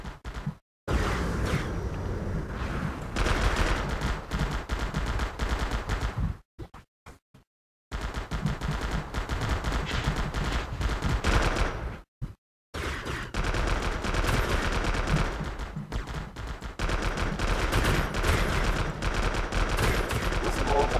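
Heavy, continuous video game gunfire from a range-upgraded weapon, loud sustained bursts broken by a few short silent gaps, with dense layered shots and impacts throughout.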